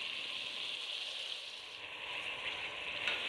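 Washed mutton, half a kilo, hits a hot pan of frying masala for a mutton kurma, giving a steady, fairly faint hiss and sizzle that continues evenly without talk.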